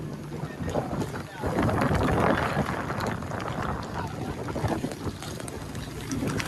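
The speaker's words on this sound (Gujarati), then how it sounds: "ખાલી દરિયામાં ઉભા આમથી આમ બોટ લઈ આખી એક પડખે બીજા પડખે આખી" Wind buffets the microphone over steady engine rumble and water noise from a fishing boat rocking side to side at sea in a sudden storm, with faint voices now and then.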